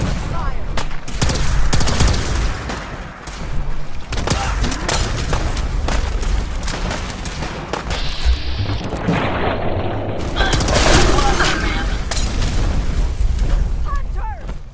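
Gunfire in the video game Fallout 4 Far Harbor, dense bursts of shots and booming blasts rattling on continuously, loud and close, with shouted voices mixed in.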